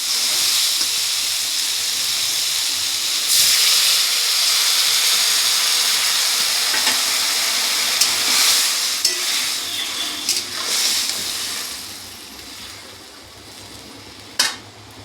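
Water hits a hot pan of sautéed leafy greens, setting off a steady broad hiss and bubbling simmer that stays loud throughout, with a few sharp clinks of a utensil near the end.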